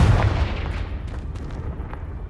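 Confringo spell explosion in Hogwarts Legacy, a deep booming blast that begins loud and rolls off into a fading low rumble with faint crackling debris.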